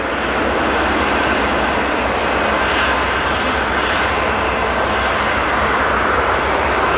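A WestJet Boeing 737-800 bound for Calgary lines up on the runway at Toronto Pearson, its engines giving a steady, loud broadband roar that holds without a break, with no voices over it.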